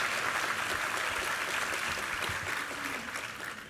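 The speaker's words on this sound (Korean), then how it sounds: "우리 하나님께 감사와 영광의 박수 올려드리겠습니다" A church congregation applauds during a Sunday anniversary service, a dense sustained wash of many hands clapping that holds steady throughout and tapers slightly near the end.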